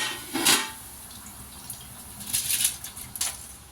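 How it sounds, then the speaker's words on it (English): Rice is poured into boiling water for mutton biryani: a brief splashy pour, then soft bubbling and a few hissing splashes, close and moderately quiet. "Now we have to add the rice."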